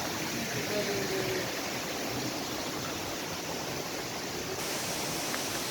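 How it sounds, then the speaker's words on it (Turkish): Waterfall in the Valley of the Butterflies on Rhodes, Greece, a steady broadband rush of falling water that holds evenly throughout, close and fairly loud, with no voices. "Ay şelaleyi çekeceğim."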